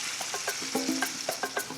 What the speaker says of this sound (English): I haven't even touched it, but just listening to that sizzle,